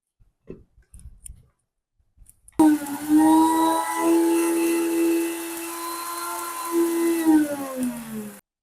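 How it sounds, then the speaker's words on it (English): A mixer grinder grinds dried moringa leaves into powder, starting abruptly after a few faint clicks and running as a loud, steady motor whine for about six seconds before cutting off. "moringa podi, and along with this, I'll grind it."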